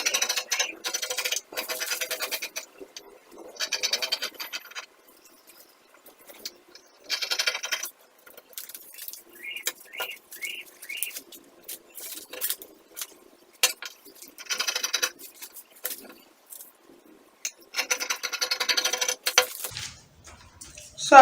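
Scissors cutting out a fabric pattern piece for a keyhole peplum blouse, intermittent close snips and crisp scraping strokes in short bursts separated by quiet pauses.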